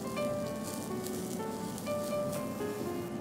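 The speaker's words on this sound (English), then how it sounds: "We'll take some oil and brush it on this side." Rajgira paneer paratha sizzling in oil on a hot griddle, a steady close crackle and hiss running unbroken from start to end with no voices.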